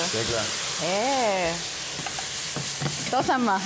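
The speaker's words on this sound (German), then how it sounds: "Bei uns kocht und dampft." Onion-braised roast beef and spätzle cooking in a pan deglazed with red wine and port, giving a loud, continuous sizzle and steamy hiss under two people talking.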